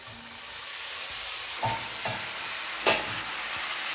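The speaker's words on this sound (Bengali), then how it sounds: "আলু দিয়েছি, আলু দিয়ে মশলা দিয়ে ভালো করে কষিয়ে নিয়েছি, দিয়ে মাছটা দিয়ে দিলাম।" Bombay duck fish frying in a pan with potatoes and spices, a steady close sizzle with a few soft stirring knocks and clatters, no talking.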